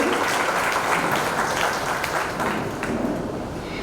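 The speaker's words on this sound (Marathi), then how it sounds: "एकदा जोरदार टाळ्या वाजवा प्राची गडकरी ताईंसाठी." An audience at a literary evening applauds Prachi Gadkari, a dense, steady wash of many hands clapping at once that stays loud throughout and fades only slightly near the end.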